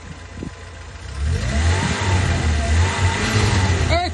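A car that has just been started idles, then the throttle is pressed and the engine revs up and holds a loud, rough drone close by, with a brief mechanical squeak near the end.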